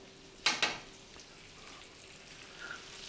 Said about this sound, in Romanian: trebuie să mișcați orice carne pe care o puneți la prăjit